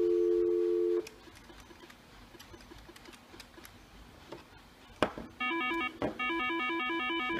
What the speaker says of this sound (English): So let's make a call coming in from the outside to this phone.